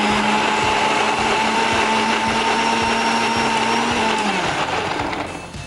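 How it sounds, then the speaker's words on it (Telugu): An electric mixer grinder blends oats in its jar, a loud steady motor whine with rattling contents that holds for several seconds, then drops in pitch and winds down at the end. "ఈ ఓట్స్ మిశ్రమం కూడా ఈ గ్రైండర్లో వేసేసుకొని ఇప్పుడు ఫస్ట్ మనం దీన్ని మిక్సీ చేసుకుందాం."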